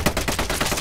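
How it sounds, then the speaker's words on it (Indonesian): A rapid burst of gunshots in a film, several sharp cracks in quick succession, loud and close. "Mayor Bruno yang mendengar suara ledakan itu seketika berhenti dan berbalik arah menuju suara ledakan."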